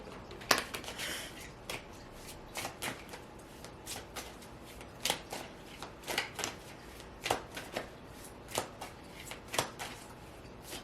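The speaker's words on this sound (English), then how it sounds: "I'm going to pull a message of love oracle card just to get a more clear answer of what your person is thinking." Love oracle cards are shuffled by hand in a quiet room, a loose series of crisp riffling slaps and flicks at an uneven rhythm, close and moderately loud.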